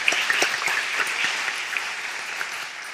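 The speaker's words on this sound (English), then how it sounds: "I'd like you to applaud them both for their very courteous presentations." Audience applause at a panel question-and-answer event on caste legislation, steady clapping from a crowd filling the whole stretch with no talk.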